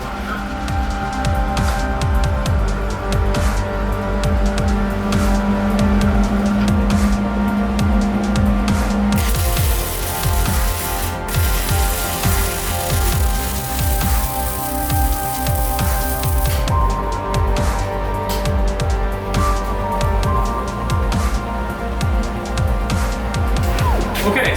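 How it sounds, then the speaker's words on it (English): Angle iron being welded onto a Harbor Freight engine stand gives a loud, close, continuous crackling sizzle with dense sputtering pops, holding steady for the full length. "So the first thing I'm going to do is take and weld on this angle iron"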